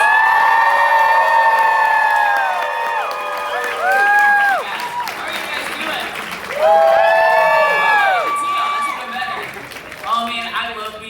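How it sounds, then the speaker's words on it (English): A convention crowd cheers, whoops and applauds loudly to welcome a guest on stage, a sustained roar of many voices with shrill shouts and screams rising in waves over about eleven seconds. "So I want the biggest woo, the biggest crowd chants for Greg Ayers!"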